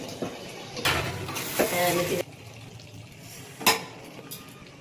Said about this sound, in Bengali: এবার আর 5 মিনিট এটাকে কষাবো, তাহলে আমার হয়ে যাবে।